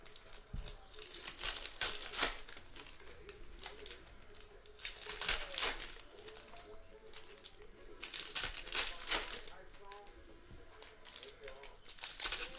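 Panini Prizm football hobby boxes, 2020 set, being opened. Crinkling and tearing of plastic wrap and cardboard comes in repeated bursts across the whole stretch, close by and moderately loud, with people talking over it.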